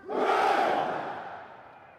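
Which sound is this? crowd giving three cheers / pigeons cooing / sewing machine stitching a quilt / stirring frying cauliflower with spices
crowd giving three cheers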